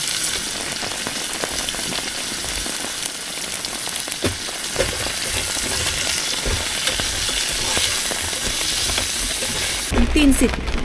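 A pressure cooker hisses and sputters steadily inside a campervan kitchen, a dense crackling steam noise like sizzling rain that holds for several seconds, with a brief louder burst near the end.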